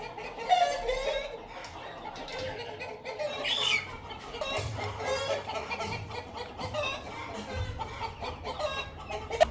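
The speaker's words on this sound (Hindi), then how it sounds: "जो इस केज में चूचे थे वो मैंने इधर खुले करवा दिए हैं, वो घूम रहे हैं।" Chickens and loose chicks clucking and chattering around an open cage area, a steady mix of overlapping clucks and soft peeps throughout, with a faint rooster-like call and some low background noise.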